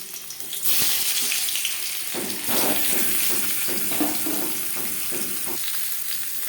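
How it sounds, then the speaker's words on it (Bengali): Boiled potatoes go into hot oil in a wok, setting off a loud, close sizzle that continues with bursts of crackling and stirring movement. "কড়াইতে আবারও তেল দিয়েছি এবার দিয়ে দেবো আলু"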